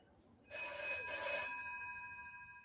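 A telephone bell rings in one sustained burst of about a second, bright and close, then decays away in a quiet room with no voices.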